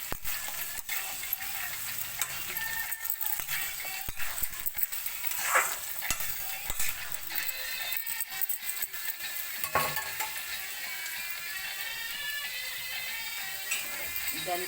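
Mixed vegetables for vegetable noodles fry in a hot pan, giving a steady close sizzle broken by scraping and clatter from a spatula stirring them.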